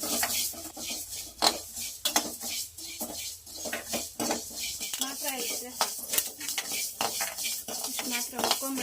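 Fenugreek seeds roasting in a pan for a kavalikayi pickle, with a utensil repeatedly scraping and clattering against the metal in quick irregular strokes over a faint sizzle, close and fairly loud, with no talking.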